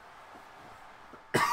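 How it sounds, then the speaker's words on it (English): A single sharp cough bursts out near the end after quiet background murmur, over WWE 2K18 wrestling game commentary. "Make me cough more."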